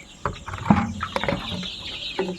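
Thirsty golden chickens at a poultry farm pecking feed and drinking, with scattered close clucks and soft pecking knocks over a low background hum.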